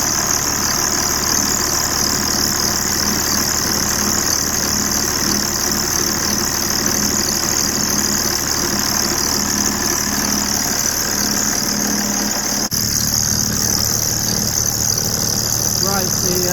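A BMW E46 330d with the M57 diesel engine idles with a bad crank pulley, giving a steady, loud, close diesel clatter with a constant vibrating drone that continues after a brief change near the end.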